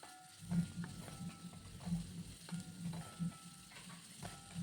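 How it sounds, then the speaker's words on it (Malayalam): Onion and green chilies sautéing in a pan for moru curry: a constant close sizzle of frying, broken by regular, rhythmic stirring strokes against the pan about every half second, with no voices. "സവോളയും പച്ചമുളകും വഴറ്റിയെടുക്കാം."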